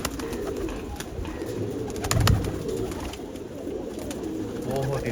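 Pigeons coo softly amid steady background noise, with a louder low burst near the middle and faint voices mixed in.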